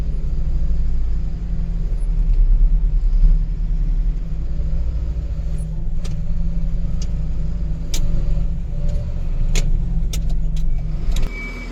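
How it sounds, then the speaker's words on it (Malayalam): A JCB excavator engine rumbles loudly and steadily nearby while leveling muddy soil, with occasional clanks and ticks of the machine working over the drone. "നമ്മുടെ JCB ഇവിടുന്ന് ലെവലാക്കി പോകുന്നുണ്ട്."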